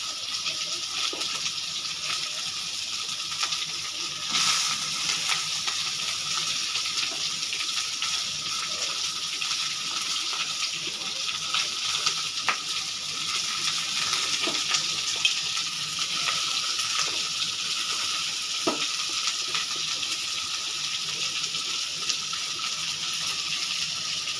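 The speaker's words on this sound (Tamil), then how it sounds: "வெங்காயம் பச்சை மிளகா நல்லா வதங்கட்டும்" Onions and green chillies softening in a pan for a garlic-pepper pachadi give off a steady, hissing sizzle that holds close and even for the whole stretch, with a few faint clicks and no voices.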